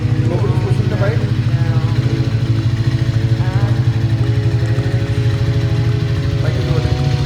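Motorcycle rolling in sixth gear, its engine a loud, steady low thrum with an even pulsing rhythm close by throughout, with talking over it.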